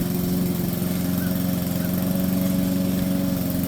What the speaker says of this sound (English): We're just going to let you watch him mow some of this grass.